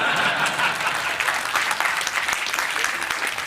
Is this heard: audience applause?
yes